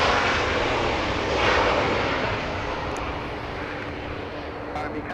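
Broad, roaring engine noise from an airplane at Los Angeles International Airport, loud and steady, swelling slightly and then slowly easing off across several seconds.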